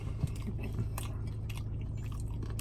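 Close, steady chewing and crunching of spicy beef nachos in a mukbang, with wet bites and crisp crunches over a constant low background hum and no talking.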